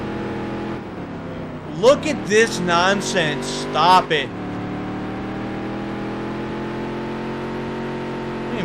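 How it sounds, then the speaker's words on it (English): Stock car engine in a racing video game, a steady mid-pitched hum running throughout, while a person talks over it in a short burst near the middle. "is the engine even running?"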